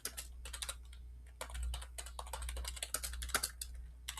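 Quick, irregular keystrokes tap on a computer keyboard in close, quiet bursts over a low steady hum.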